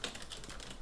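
Light keystrokes on a computer keyboard, a few soft clicks close by over a faint steady room hum, with no voice.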